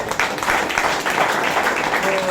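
A group applauds at a health talk about improved hemoglobin levels, giving a fairly loud, steady burst of clapping lasting a couple of seconds, with a few voices mixed in.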